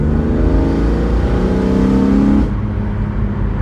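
BMW E46 M3 with an Eventuri intake, heard from inside with the windows up, pulling hard in third from below 3,000 rpm; a loud, steady, rising engine drone climbs in pitch, then the tone drops sharply at a gear change.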